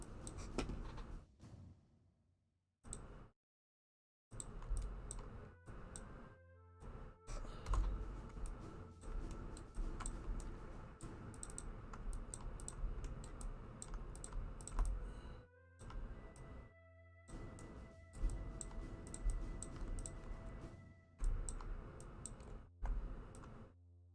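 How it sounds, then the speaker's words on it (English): Typing on a computer keyboard while answering emails, a steady run of close, soft key clicks and taps in bursts with brief pauses, heard alone throughout. "Just typing away at some emails."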